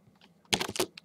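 A short burst of quick keystrokes on a computer keyboard while typing code, a few faint taps followed by a denser cluster of clicks, close and soft.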